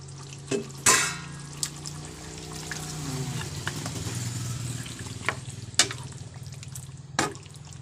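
Chicken pieces cooking in a pot of curry without coconut milk, a steady low sizzle with a few sharp clatters and knocks of a utensil against the pot.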